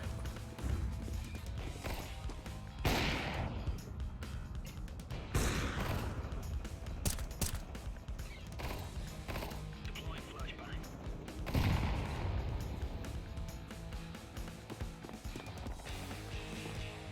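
Gunfire rings out in the horror video game Outlast as sharp shots and bursts crack repeatedly over a busy game soundscape, with a player talking throughout.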